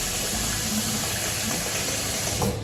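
Water left over from washing fruit is poured out in a steady, close, gushing stream that runs for the whole short moment.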